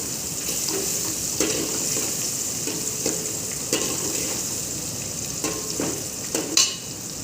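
Green garlic tossed into a brinjal (aubergine) bharta frying in a pan on a rustic clay stove; a constant oily sizzle runs throughout, punctuated by several sharp spatula scrapes and taps, close and with no voices.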